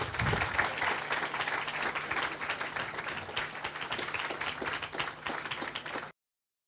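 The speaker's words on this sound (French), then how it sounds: "Vous pouvez l'applaudir pour le coup" Audience applause at a French youth ideas event, thanking a young speaker, a steady crowd of clapping hands, moderately close and even, continuing for several seconds before cutting off abruptly.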